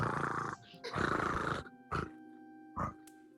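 A voice imitates a cat's purr with rough, rumbling bursts, broken by short pauses and a few brief throaty breaths, close and fairly soft.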